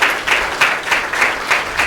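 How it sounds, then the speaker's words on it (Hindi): Applause at a welcome gathering in Korba, heard as a short burst of rhythmic, near-unison claps, roughly three per second, loud and close. "तालियों की गड़गड़ाहट"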